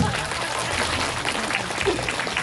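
An audience at a pumba street performance during a ginseng festival in Jeungpyeong claps steadily for a couple of seconds, a dense, even patter of hands with faint crowd noise.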